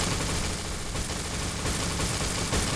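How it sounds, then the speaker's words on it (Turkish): A burning boat crackles in the Roblox game Build A Boat, a dense, loud, continuous stream of rapid pops and snaps with a few sharper bursts, heard with no talking. "Evet çıtırdama sesleri."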